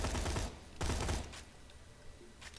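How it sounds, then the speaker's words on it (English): A Dahl carbine in the video game Borderlands 2 fires tight 5-round bursts: two quick, crisp rattling volleys close together, then a fainter partial burst after a short pause. "So, once again, a regular carbine here. 5-round burst."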